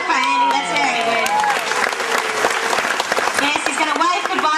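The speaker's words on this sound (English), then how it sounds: "All right, a big clap for Andy" An audience claps for a performer named Andy, a dense, continuous wash of applause filling the room while a voice talks over it.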